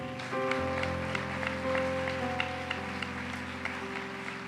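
A church congregation applauds softly in the distance during a leadership retreat homily, the scattered clapping sitting beneath steady organ-like sustained music.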